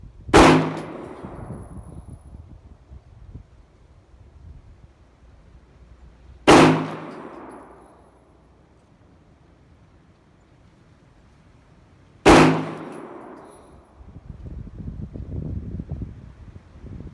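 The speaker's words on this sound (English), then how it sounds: "I've got 5 rounds of HST loaded in the gun, and so let's shoot a group and see what happens." A 30 Super Carry compact pistol fires HST rounds outdoors, three sharp, loud shots spaced about six seconds apart, each with a short decaying echo, light wind noise between.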